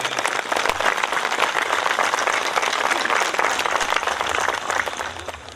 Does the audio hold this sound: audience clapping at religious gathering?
yes